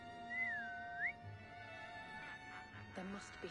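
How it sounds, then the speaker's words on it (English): A cupboard whistles in Assassin's Creed Syndicate: a single faint, gliding whistle note rising at the end, heard under game ambience while players chat over it. "if you hear a cabinet whistling"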